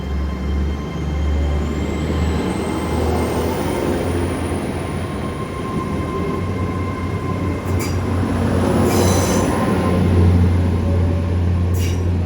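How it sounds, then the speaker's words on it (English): A Great Western Railway train pulls out of Penzance bound for Plymouth, a steady loud rumble of rolling stock with a faint rising whine and brief squeals, heard close from the platform throughout. "departing out now is the 1824 Great Western Railway service from Penzance to Plymouth"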